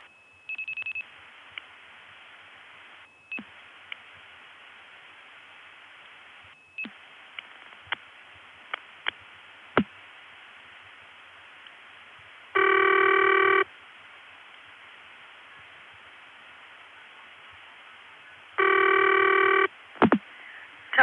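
Over a phone line's hiss and scattered clicks, two long electronic ring bursts sound several seconds apart, buzzy and steady, on a call to the 611 telephone repair service, early 1980s.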